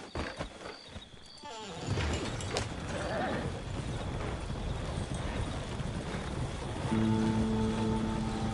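Steady hoof clip-clop of a horse being ridden toward the town of Rhodes in the video game Red Dead Redemption 2, starting after a couple of seconds and continuing at an even pace, with a faint tonal hum near the end.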